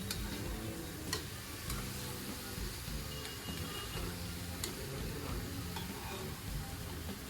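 Paneer pieces sizzle steadily in a hot pan while being turned over, with a constant close frying hiss broken by faint scraping ticks as they are flipped.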